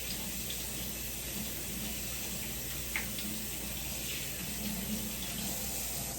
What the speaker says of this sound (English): Sure you get the soap all on your hands, clean between your hands, your fingernails.